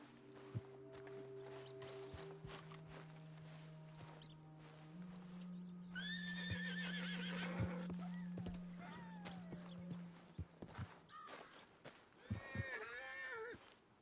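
Spooked horses neigh and whinny in Red Dead Redemption 2, with several loud calls and snorts over a steady hum, alongside clip-clopping hooves and faint speech.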